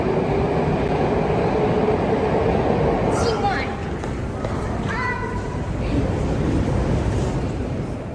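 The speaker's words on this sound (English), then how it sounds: "I'm going down into the Moscow metro because somewhere here, deep underground" A Moscow metro train deep underground, a loud steady rumble of wheels and carriages with metallic squeals and brake whines rising partway through, continuous and close.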